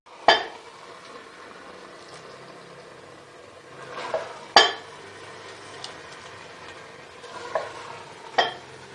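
Cooked turnip and spinach being served from a pot into a dish, with a few distinct clinks and scrapes of a utensil against the pot spaced several seconds apart over faint background noise, and no talk.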